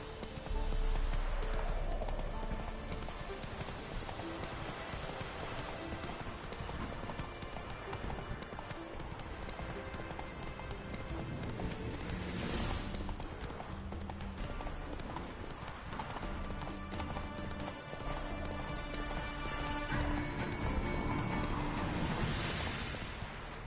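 Rhythmic clip-clop of a horse's hooves galloping steadily in The Witcher 3 on PS5, loud and continuous, mixed with game ambience and an occasional whinny.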